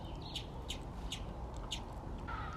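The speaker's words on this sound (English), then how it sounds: "The fact that we have so many bird species and they're just like going about their day, chirping, doing their thing, living their life." Wild birds chirping outdoors, short repeated tweets at a steady rhythm over a constant low background rumble, moderately distant, with no talking.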